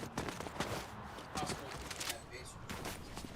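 Gunfire crackles in a video game, with scattered bursts of shots and rattling volleys at moderate loudness, while players talk over it.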